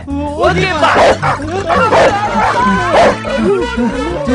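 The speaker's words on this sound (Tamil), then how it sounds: "புடிங்கடா அந்த நாய்க்குட்டிய" A pug puppy yips and whimpers in short, high bursts, mixed with loud, excited talking close by.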